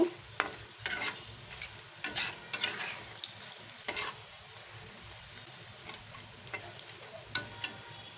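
Horse gram fritters sizzle in hot oil with a soft, constant crackle, broken by sharp scrapes and clinks of a spoon stirring the pan now and then.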